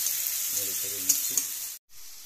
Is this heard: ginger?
yes